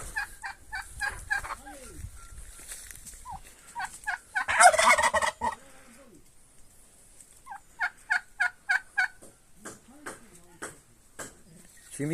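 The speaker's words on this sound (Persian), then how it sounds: "بوقلمون و مرغ و" Farmyard turkeys gobble in quick, repeated bursts, some close and loud, others softer, with short gaps between the rattling calls.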